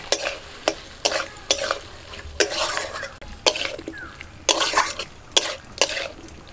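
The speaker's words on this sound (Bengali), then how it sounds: "মশলার সাথে আলুটাকে ভালো করে কষিয়ে নিয়েছি" Potatoes frying with spices in a pan for a vegetable curry, stirred in a regular rhythm of loud, close scraping strokes over a soft, constant sizzle.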